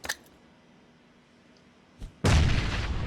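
A sudden loud blast of a grenade exploding in PUBG, preceded by a couple of sharp clicks and a brief pop, then a sustained roaring boom that fills the end of the clip.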